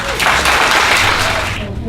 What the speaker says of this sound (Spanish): invitamos a la doctora y le recibimos un fuerte aplauso